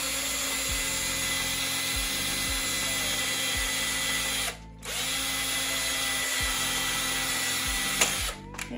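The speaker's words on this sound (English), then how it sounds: "my 1/4 inch drill bit that I have used and abused is a little worn out" A power drill with a worn 1/4 inch bit bores a hole in a grazing muzzle, whining steadily with a brief stop midway, then spins back up and carries on.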